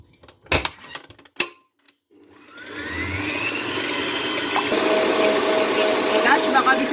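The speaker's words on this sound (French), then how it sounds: "Je vais faire monter les blancs en neige." An electric mixer whips egg whites into stiff peaks for a tiramisu, starting after a couple of sharp knocks and then whirring steadily and loudly in the bowl to the end.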